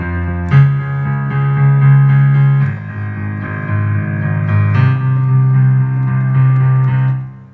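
Piano with the left hand pounding steady octaves under a repeated right-hand figure, loud and sustained, playing alone with no talk.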